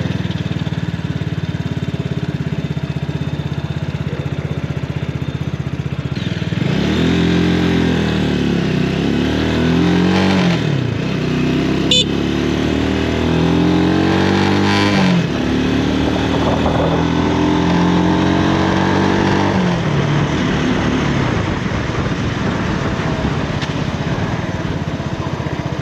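A small X-Pro X24 250cc street motorcycle engine idles and revs up and down in repeated swells, close and loud, with a sensitive clutch and stalling, running steadily for the whole stretch.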